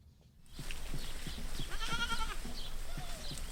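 A herd of goats bleats repeatedly in the Wenatchee foothills, where they graze to reduce wildfire risk; several close, wavering calls overlap above a steady outdoor rumble with no talking.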